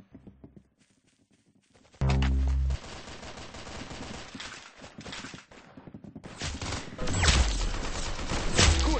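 Gunfire in the Roblox game Arsenal plays as loud, rapid bursts of automatic shots, starting with a sudden heavy blast and then continuing as dense, sustained firing that swells toward the end.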